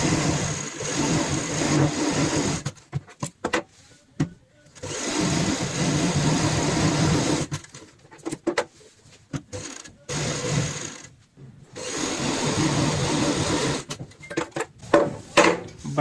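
A sewing machine stitches a cushion cover in several bursts of fast, buzzing mechanical whirring, each lasting a few seconds. Short pauses between the runs are quiet or hold small clicks as the fabric is repositioned.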